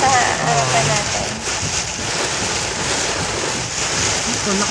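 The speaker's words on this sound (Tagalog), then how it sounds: "Ito, lakas ang hangin eh." Strong storm wind roars steadily during a Texas thunderstorm with possible hurricane conditions, a loud broadband rush with buffeting on the microphone that fills the whole stretch.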